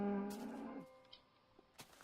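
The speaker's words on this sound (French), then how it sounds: "Ah ouais, il y a des vaches et tout." A cow in a Minecraft-style block-building video game gives one short, low moo at the start, followed by faint clicks and small game sounds in a quiet underground setting.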